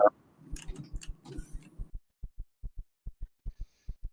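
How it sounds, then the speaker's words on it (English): A character's heartbeat speeds up in a multiplayer video game as they near death, heard as a string of evenly spaced low thumps that continues alone after a short burst of faint background chatter. "Someone's heartbeat just picked up."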